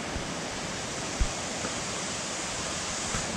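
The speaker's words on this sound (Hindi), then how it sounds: "वो जो राइट साइड में दिख रहा था वो यही है वाटरफॉल" Steady broadband roar of a waterfall, seen from a distance as a thin string-like stream, continuous and even throughout with no voices.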